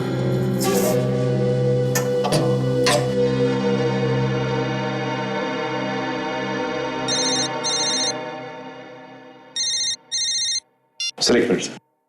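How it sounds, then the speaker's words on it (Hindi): A phone rings over and over in a tense crime-drama scene. Loud, bright ring bursts come in pairs and cut through the steady tones and music that open the scene. "बार बार क्यों फोन आ रहे हैं इसके?"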